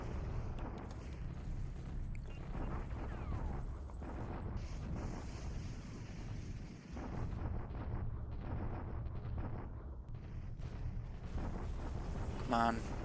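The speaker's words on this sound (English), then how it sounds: "Bombarding at Changte." Artillery bombardment in the War in the Pacific strategy game, heard as a continuous low rumble of distant blasts running throughout, with a voice talking over it.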